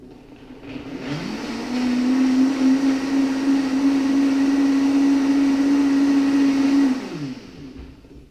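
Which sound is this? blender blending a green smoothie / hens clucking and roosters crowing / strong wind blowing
blender blending a green smoothie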